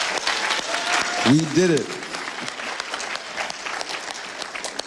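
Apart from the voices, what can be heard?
audience applause for graduates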